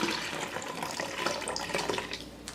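Cold water runs from a kitchen tap while blueberry mint tea is being made, a steady close gushing hiss that tapers slightly near the end.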